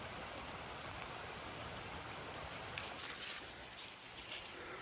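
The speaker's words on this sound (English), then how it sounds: "You got the creek running." A creek runs outdoors, making a faint, continuous wash of rushing water with no talking.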